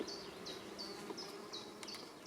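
Honeybees crawl over a barely built frame lifted from a hive, a faint steady buzz with a repeating higher whine recurring roughly every half second.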